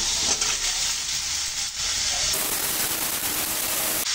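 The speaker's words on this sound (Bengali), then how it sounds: "এখন এই ফুলকপি আর আলুগুলো এর ভিতরে দিয়ে কষাই করে নেব" Cauliflower and potatoes sizzling in a pan of fried spices, onion and garlic paste, a loud continuous frying hiss with a brief dip partway through and occasional stirring.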